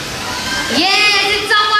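A parrot mimics knocking on a door in an outdoor amphitheater, giving a short, close, fairly loud burst of tonal sound lasting under two seconds.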